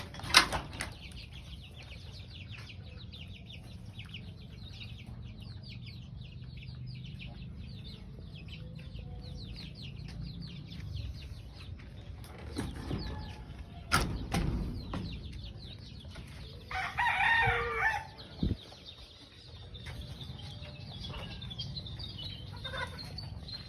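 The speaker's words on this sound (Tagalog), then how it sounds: "Ito po yung mga pinanggalingan ng mga sisiw, Sussex at Rhode Island." Sussex and Rhode Island chickens in a small backyard, steady clucking and scattered crowing over continuous background noise, with louder bird calls near the middle and end.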